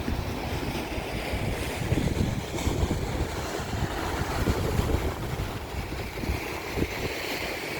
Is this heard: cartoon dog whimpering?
no